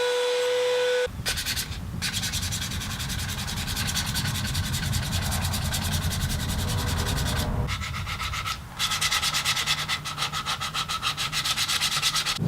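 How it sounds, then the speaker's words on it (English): A router mounted in a drill press table rounds over wood edges with a 1/8 inch roundover bit, giving a steady, loud whirring hiss broken by two brief pauses. "I'll round over some of the edges using an 1/8 inch roundover bit."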